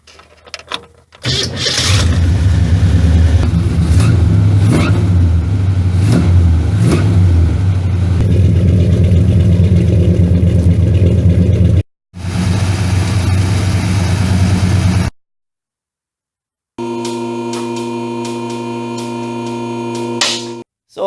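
A 1965 Chevelle's Chevrolet 350 crate engine fires up and runs with a loud, rough rumble, cuts off briefly, catches again, then goes silent before a steadier humming drone returns.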